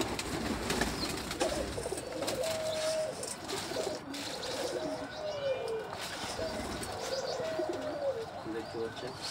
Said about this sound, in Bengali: দেখুন, আমি কবুতর এই মুহূর্তে খাবার পরিবেশন করছি।